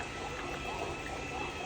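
Liquid pours steadily and continuously into an AGO film processor, a dense, close rushing splash that holds even throughout.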